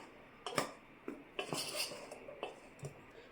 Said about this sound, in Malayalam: ഇനി ഇതെല്ലാം കൂടെ മിക്സ് ആക്കാം കേട്ടോ.